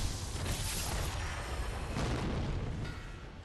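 A deep cannon boom from the video game Sekiro rolls out as a sustained rumble. It is followed by a second swell of low, noisy thunder, with no talking.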